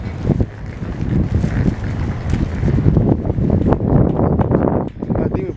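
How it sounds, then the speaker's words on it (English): Strong wind gusts buffet the microphone outdoors in a steady, loud roar across the whole stretch, with brief louder bursts and no speech over it. "It's like so windy right now, guys."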